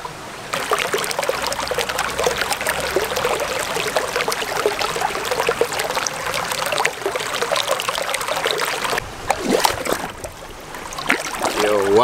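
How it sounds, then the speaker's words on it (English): River water rushes and trickles steadily during dishwashing outdoors by a Jamaican river, a continuous close wash of flowing water with a few splashy bursts near the end. "Washing stuff in river water is just so cool. It's like almost like a dishwasher, the power of the river coming down and just pushing out the debris from it."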